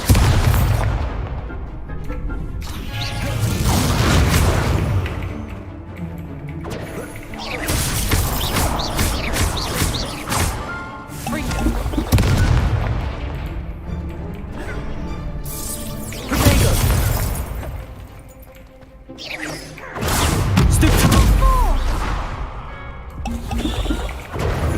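Spell-combat effects from the Hogwarts Legacy video game, including Expelliarmus casts: repeated loud booms, crashes and shattering bursts with whooshing magical swells, continuous and dense across the stretch.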